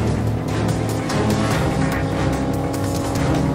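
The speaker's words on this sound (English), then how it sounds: "At 230 miles an hour, just 12 miles an hour shy of breaking the record, Jim is not picking up enough speed." A Mazda RX-7 race car roars at around 230 mph, a loud, steady, close engine drone with constant high revs and faint tire noise running throughout, no pauses.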